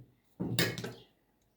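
A single short burst of a knife chopping eggplant on a cutting board, a quick crunchy cut with a woody knock, close and fairly quiet, then silence.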